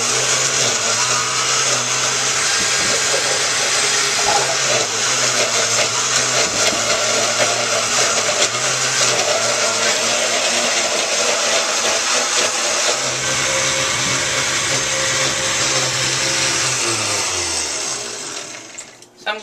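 A blender whirs through sofrito ingredients, a loud continuous motor roar with grinding texture that shifts slightly in pitch as the contents churn, holding for nearly twenty seconds before winding down at the end.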